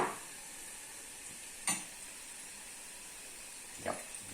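Chips frying in hot oil with a steady low sizzle, broken by two brief louder crackles, as if something is stirred or dropped in; no talk.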